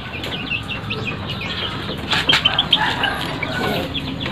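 Bangkok chickens flapping their wings in a short flurry, with soft clucking and rustling over a steady farmyard background.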